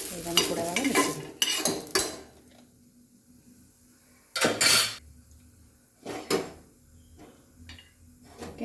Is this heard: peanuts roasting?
yes